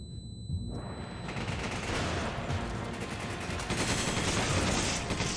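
A flashbang grenade in the video game Resident Evil 5 goes off after a brief quiet moment, followed by a sustained loud ringing blast mixed with bursts of gunfire that last until the end.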